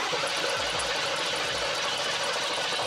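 An engine on an old barn-find Corvette, abandoned for 20 years, cranking and sputtering on fresh fuel, a close, loud, steady rapid chugging rumble with no talk.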